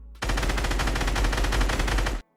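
Fortnite gunfire from three teammates spraying a wall at once, a dense, continuous automatic rattle of overlapping shots lasting about two seconds, loud and close with no talk.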